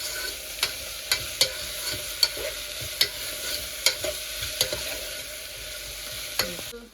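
Onion, green chilli, mint and coriander frying in a pan while a spoon stirs, a soft steady sizzle broken by regular crisp scrapes and taps about every half second, close and clear, no voices.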